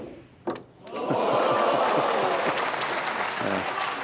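Audience applause at the Xi'an Grand Prix 2024 snooker semi-final swells after a brief knock and holds as steady, close clapping for several seconds, with a faint murmur of voices underneath.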